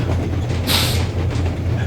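Train rolling along a railroad in the Metro Exodus video game, a steady low rumble with a brief hiss of air rising in the middle, continuous and close.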